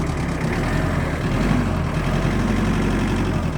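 Tractor engine with 732 engine hours idling smoothly and evenly, a steady low diesel rumble with a soft mechanical hum that stays constant and close throughout, with no voices.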